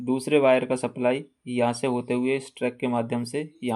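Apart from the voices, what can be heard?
No everyday noise stands out behind the speech.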